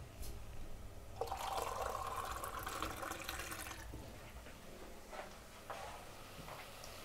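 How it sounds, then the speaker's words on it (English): Water poured into a cooking pot of stewed tomatoes to make gravy for a traditional Luhya dish, a steady splashing pour of about three seconds before it tapers off. "So I'll add some water for the gravy."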